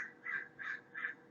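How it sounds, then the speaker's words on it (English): Three harsh crow caws in a steady rhythm, faint and distant, over a quiet background. "If you can hear birds in the background while you're recording a line,"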